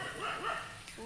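A dog barks a few times nearby, sharp yelping barks over a noisy background.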